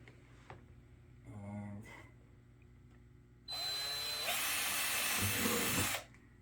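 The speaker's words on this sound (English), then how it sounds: "So I'm going to drill a hole there." A brief low motor whir, then a loud, sustained high-pitched drill whine grinding through a plastic bucket for a couple of seconds before stopping abruptly.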